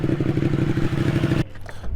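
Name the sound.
motorcycle engine revving at bike night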